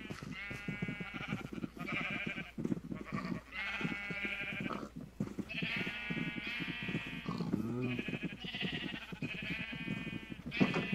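Repeated sheep bleats in Minecraft, overlapping and near, sounding steadily throughout over a continuous low background.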